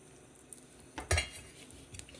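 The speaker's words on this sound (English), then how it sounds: "So I'm going to just cut it in half and then just slice it." A kitchen knife cuts through a piece of breakfast food and slices it on a board, giving a few soft, close taps and scrapes over a quiet background, with the sharpest strokes near the end.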